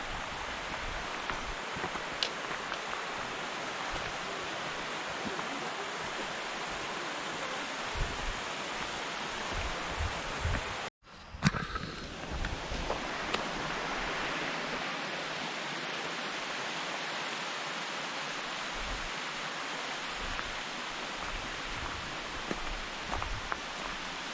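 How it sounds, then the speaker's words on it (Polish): Mountain stream water flows and murmurs steadily in a valley in the Polish mountains, a continuous broadband rush close by, briefly cut to near-silence at about eleven seconds before resuming just as full. "Woda spływa i szumi."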